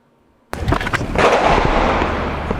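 Gunfire on a city street in Minneapolis' North Side breaks a near-silence with a sudden loud crack, followed by a few more sharp reports that blend into a sustained rumbling roar.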